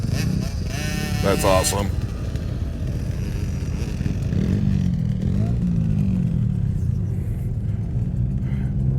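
Motorcycles ride past at the King of the Hammers off-road event, their engines rumbling and revving under near, continuous chatter from people talking.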